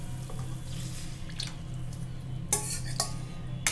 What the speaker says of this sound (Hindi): अब हम अपना फेटा हुआ दही डालेंगे।